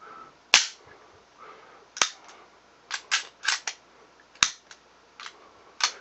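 A Steyr pistol's striker mechanism being worked to show its double-fire ability, giving sharp metallic clicks and snaps, a handful of crisp near transients spaced irregularly over a few seconds with quiet between them.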